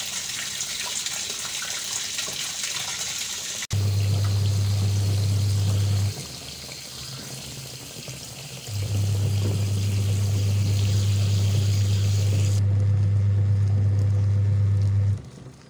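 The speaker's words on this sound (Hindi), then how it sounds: "अभी मैं मशीन में पानी डाल रही हूँ।" Water gushes steadily into a washing machine at home, a loud continuous pour that briefly drops away for a few seconds before resuming and then cutting off near the end.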